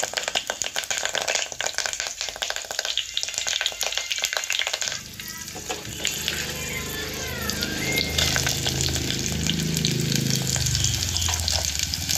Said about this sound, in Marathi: तेल गरम करून झालेलं आहे आणि आता मी त्यामध्ये कढीपत्ता टाकणार आहे